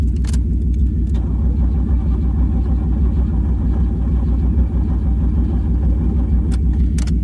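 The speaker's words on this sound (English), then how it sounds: "Back to cranking a little bit more." Hearse engine with a weak battery cranking over steadily without catching, a continuous loud low drone with a few faint metallic clinks, close to the microphone, no voices.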